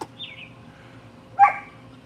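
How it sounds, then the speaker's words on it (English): A dog gives a short, high-pitched begging yelp, one brief whiny bark following a faint earlier whimper, close by in a quiet indoor room. "That's the high-pitched begging bark."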